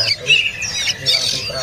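A young pelanduk semak bird at a songbird seller gives repeated harsh squawks, bursts that come and go over a steady background.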